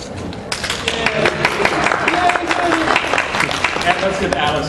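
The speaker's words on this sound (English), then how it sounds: "Great round of applause." Audience at a base-building talk breaks into applause, a dense patter of many hands clapping fairly close, steady for several seconds with chatter and voices mixed in underneath.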